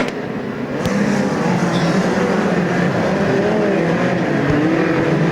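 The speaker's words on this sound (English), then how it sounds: "The Denko engineering machine of Paul Denson throwing up a smoke screen as he drifts back through the field." Midget race cars at the New Zealand Midget Championships at Ruapuna Park race around a dirt track, a loud, continuous blend of several engines droning and revving together, rising slightly after a brief onset.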